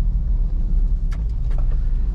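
2017 Nissan Grand Livina SV automatic driving, a steady low engine and road rumble heard from inside the cabin, with a couple of faint higher clicks or knocks partway through.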